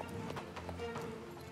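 Quiet, rhythmic horse hoofbeats clip-clop steadily in the Star Stable video game, with a voice talking softly alongside them.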